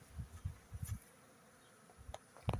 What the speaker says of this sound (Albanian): Dy kate janë për plot me mizë.